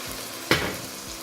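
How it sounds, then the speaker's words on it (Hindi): Tomatoes with biryani masala are frying in a pot. A single stir scrapes against the pot over a soft, steady sizzle, with no talking. "टमेटोज काफ़ी अच्छे से हो गए हैं अब. और इसके अंदर अभी हम ये जो बिरयानी मसाला है वो डाल देंगे"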